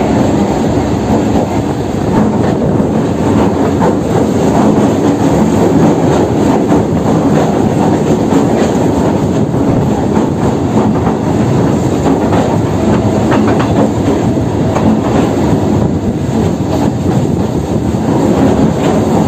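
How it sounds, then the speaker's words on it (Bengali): A Kolkata Circular Rail local train runs along the track with a steady loud roar, rattling carriages and rhythmic wheel clatter that keep going at an even level throughout, with no talking. "বুক ছেড়ে আমাদের এই ট্রেন যাচ্ছে।"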